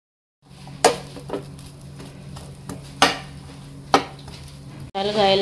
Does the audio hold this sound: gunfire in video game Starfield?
no